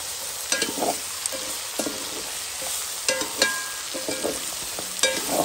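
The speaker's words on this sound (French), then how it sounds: "Et il mélange. Je le mélange" A spoon stirs rabbit with prunes and lardons in a pot, giving irregular scraping clanks over a constant close sizzle of frying.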